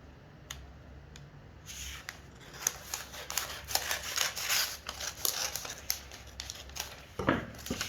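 Scissors cut open one side of a paper circular flare skirt pattern, giving a run of crisp snips and paper crinkles at close range, fairly quiet throughout.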